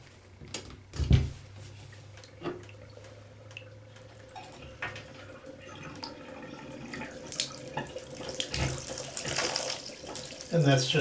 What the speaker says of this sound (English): that's just the water coming from the shower head down the pipe